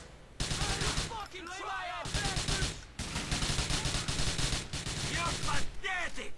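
Rapid bursts of gunfire from the video game Grand Theft Auto IV, dense and continuous with brief gaps, shots layered close together across the whole stretch.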